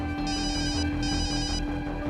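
A telephone rings indoors in repeated electronic bursts, two ringing trills separated by short pauses over a low background hum.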